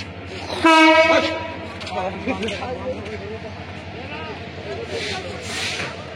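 An express train pulls into Rangpur railway station, its horn blaring loud and close for about a second, followed by rumbling carriages and platform noise with people talking.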